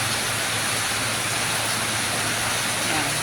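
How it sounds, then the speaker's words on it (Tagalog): Heavy rain pours down steadily in a dense, even hiss of falling water, loud and close, with no break across the stretch. "ang lakas ng ulan"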